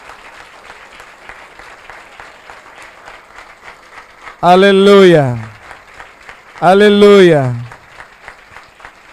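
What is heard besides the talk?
congregation applauding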